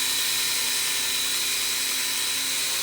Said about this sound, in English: now we'll just pull the drill away a little bit.